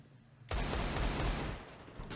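AK rifle gunfire in a Counter-Strike match, a sudden loud automatic burst that starts abruptly and rattles on for about a second before tailing off.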